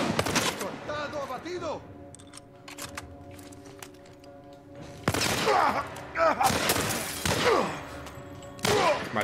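Bursts of rapid gunfire in The Last of Us remake on PS5, separated by pauses, with a soft voice murmuring in the background between volleys.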